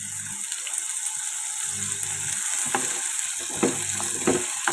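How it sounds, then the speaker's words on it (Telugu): Potato pieces frying in oil over a slow medium flame, a steady bright sizzle throughout with occasional soft stirring clatters, close-up and continuous, no voices. "ఇదిగోండి ఈ విధంగా స్లో మీడియం ఫ్లేమ్లో వేయించుకోవాలి"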